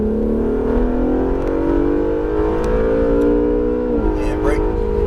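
An Acura NSX accelerates on a track, its engine note rising steadily in a loud, continuous drone before dipping sharply as the car brakes, with a driver talking over it.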